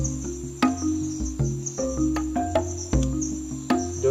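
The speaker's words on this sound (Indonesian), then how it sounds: "Jangkrik." Crickets chirp steadily in a forest at night, a dense, continuous high trill with rhythmic pulses repeating close by and no talking over it.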